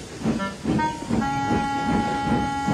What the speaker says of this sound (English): Sir Handel puffed away to fetch his coaches